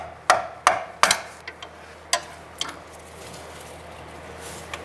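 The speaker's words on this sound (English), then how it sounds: "give it a few bonks with the hammer" A hammer strikes a pry tool to knock a steering rack boot band off a 2008-2013 Nissan Rogue, giving about seven sharp metallic taps in an irregular rhythm, the first few loudest, in a quiet garage.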